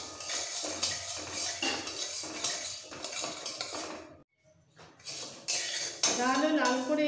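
Sona moong dal is stirred and dry-fried in a hot kadai for khichuri bhog, with a continuous loud, close scraping and metallic clatter of the ladle against the pan that breaks off briefly midway and then resumes.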